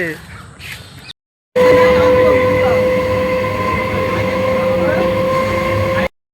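A train rumbles at a railway station with a loud, steady drone and a tonal hum, after a short quieter stretch of background noise and a brief gap.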